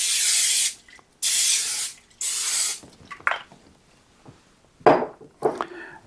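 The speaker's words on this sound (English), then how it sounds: "I'm going to go ahead and spray the inside of the crock pot" Cooking spray misted inside a crock pot: three long, loud, close hissing bursts in a row, followed by quieter clicks, taps and a couple of short spritzes.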